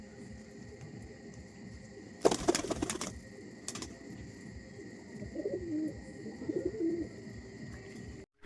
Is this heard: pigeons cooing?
yes